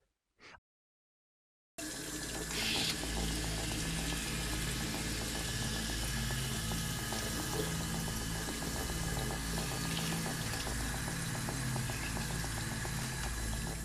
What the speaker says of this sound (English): You need to rinse the razor thoroughly